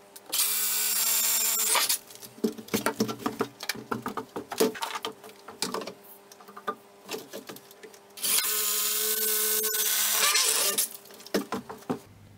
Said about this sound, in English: I need to drill a hole through the top plate for the supply line to the shower head here.